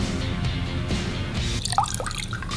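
Water poured into a Poopsie Slime Surprise toy up to its fill line, a soft close trickle and splash with a few brief gurgling drips near the end.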